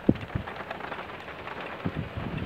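Heavy rain in a moderate thunderstorm at Livron in the Drôme, a steady hiss of downpour with a few low thumps and rumbles scattered through it, fairly distant and soft.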